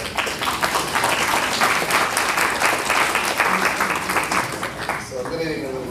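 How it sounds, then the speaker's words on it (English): An audience at a mayoral candidate forum in Pontiac applauds the candidates with brisk, sustained clapping that fades after about five seconds as a voice begins speaking. "Now, let's give another round of applause for Mayoral."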